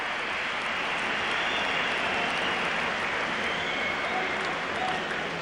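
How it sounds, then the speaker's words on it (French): A crowd in an ice hockey arena at a Spengler Cup game between Spartak Moscow and Canada applauds steadily, a dense wash of clapping that holds at a fairly constant level throughout. "Canadien qui mérite alors parfaitement ses applaudissements."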